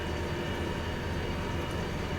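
A DE6 diesel locomotive in the Derail Valley train simulator pulls a long train with a slug unit. It gives a steady, dense rumble and roar throughout, loud and unbroken, with no voices.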